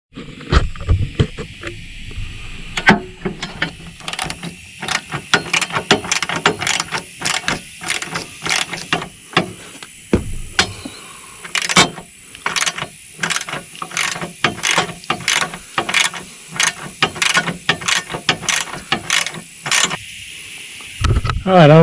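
A ratchet wrench on an extension turns bolts while an alternator belt is changed on a Kubota KX080-3 excavator, giving rapid bursts of sharp clicking, some stretches steady and others broken by pauses, with work noise and brief talk around it.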